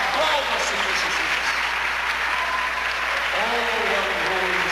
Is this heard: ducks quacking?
no